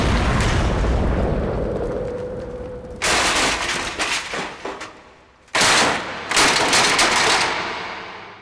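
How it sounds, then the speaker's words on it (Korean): A sudden explosion tears through the flame-filled interior of a burning building during a firefighter entry, with a roaring fire bed giving way to loud, sharp blasts and crackling bursts, then a second violent burst that trails into rumble. "두 사람을 집어삼켜버린 폭발"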